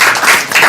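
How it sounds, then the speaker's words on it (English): Applause from the audience at a public school discussion meeting, a dense, loud wash of many hands clapping that is heard only briefly. "Could I get a round of applause for Michael DeResco,"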